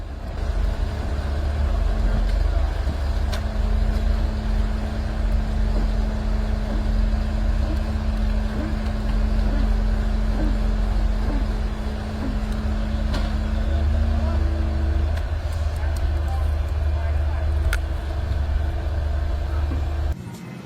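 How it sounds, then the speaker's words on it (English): A massive super truck hauling a giant tracked excavator on a deserted road, its engine droning in a heavy, constant low rumble with a steady tonal hum, close and loud throughout. "A massive super truck is hauling a giant construction monster, a colossal tracked excavator, slowly down a deserted road."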